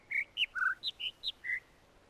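Birds in the video game The Witness chirp about seven times, short bright tweets in a quick uneven series, clear and alone with no talk.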